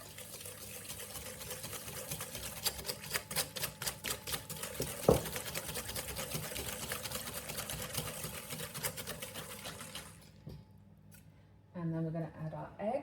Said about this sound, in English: Give a little whisk.